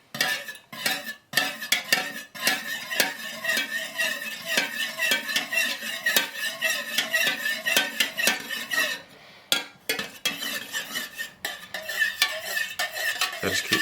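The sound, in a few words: stirring mica powder into melted wax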